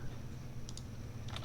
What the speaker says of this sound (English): So then we can continue typing in here.